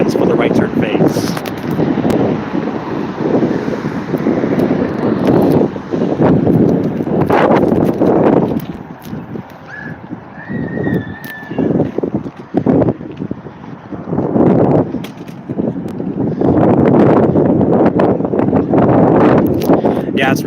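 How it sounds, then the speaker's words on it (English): Strong wind buffets a phone microphone outdoors at a busy road intersection, a loud continuous rumbling roar that surges and dips in gusts throughout. "it's really windy today."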